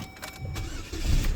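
A Chevrolet Cavalier's engine cranks and catches, with a brief starter whir followed by the motor rumbling to life close by.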